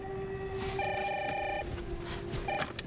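A telephone ringing indoors while heavy rain comes down outside, repeated electronic trilling rings in short bursts over a steady background hiss, with no talking.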